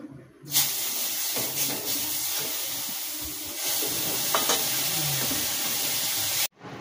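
Food frying in oil in a wok (kadai): a loud, steady sizzling hiss that starts suddenly, swells briefly midway with occasional crackles, then cuts off.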